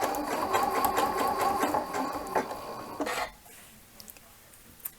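A Janome sewing machine zigzag stitches elastic onto fabric, running in a fast steady whir with rhythmic needle clatter for about three seconds before stopping, followed by faint handling noises.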